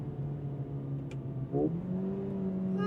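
A 2024 Mercedes-AMG CLA35 with an 8-speed gearbox in manual mode drops a gear on the paddle, the steady engine hum rising in pitch into a quick blip and then settling at a higher, held drone.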